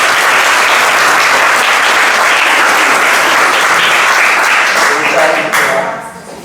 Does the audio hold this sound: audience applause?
yes